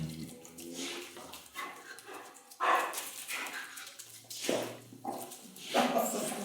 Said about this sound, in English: Point where my dog decides he wants to have a play